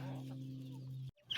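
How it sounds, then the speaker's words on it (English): Chickens in a farm coop during winter chores, with faint clucks over a steady low hum, cut off abruptly by a brief silence and a clattering noise at the end. "It is so hard getting in there to feed these chickens."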